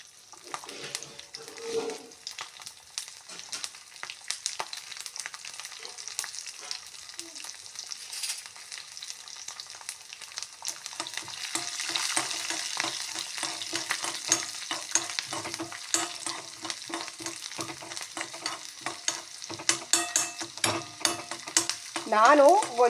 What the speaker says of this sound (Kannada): ಈಗ ಇಲ್ಲಿ ಒಣಮೆಣಸನ್ನು ಕೂಡ ಹಾಕಿದ್ದೇನೆ. ಹಾಗೆ ಫೈನಲಿ ಬೆಳ್ಳುಳ್ಳಿಯನ್ನು ಕೂಡ ಹಾಕ್ತಾ ಇದ್ದೇನೆ.